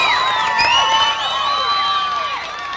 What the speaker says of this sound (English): a nice round of applause for Danny Bubar.